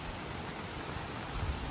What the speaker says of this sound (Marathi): आज सकाळपासून जोरदार पाऊस लागतो आहे.